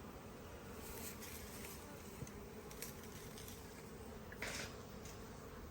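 A swarm of bees hums in a steady, dense drone close by, with individual bees buzzing louder as they zip past now and then, and no talking.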